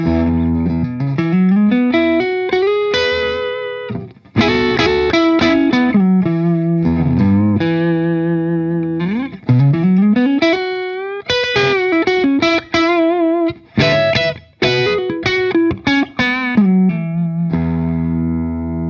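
An electric guitar through a Wampler Belle overdrive pedal on the neck humbucker, gain turned down, plays melodic phrases with bends and slides, warm and rounded in tone, ringing out alone with sustained notes.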